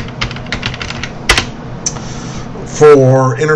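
Quick clicking keystrokes on a computer keyboard as a netsh command is entered, a rapid run of light taps followed by a sharper clack, with someone briefly speaking near the end.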